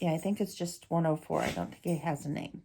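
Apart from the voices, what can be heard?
No everyday noise stands out behind the speech.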